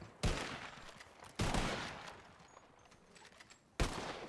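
Three sharp gunshots from a revolver in the RedM western roleplay game, fired one at a time while the shooter moves, spaced about a second and two seconds apart, each with a short ringing tail, no talk.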